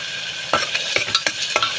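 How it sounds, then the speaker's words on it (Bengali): Bhuna khichuri being sautéed in a pan: a steady sizzle with repeated scraping stir strokes, about one every quarter second, close and clear with no talking. "কষিয়ে নেব ভালো করে। মেন রান্নায় হচ্ছে কষানো"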